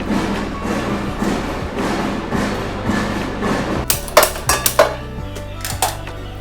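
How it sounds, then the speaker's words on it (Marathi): Construction work at a building site outside carries in as a steady, muffled din, joined in the second half by a cluster of sharp metallic clanks and thuds, with no talking. "बाहेरून बिल्डिंगची कामं चालू आहेत म्हणून तर खूपच म्हणजे आता पण तुम्हाला येत असेल आवाज"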